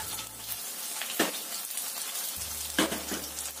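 Oil sizzles and crackles steadily as chicken balls fry, with a couple of brief clinks or stirring sounds and a low hum in parts.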